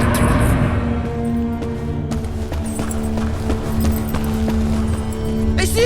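Horse hooves clop steadily in the video game The Inquisitor, a close rhythmic clip-clop running under a sustained musical drone, with a brief voice near the end.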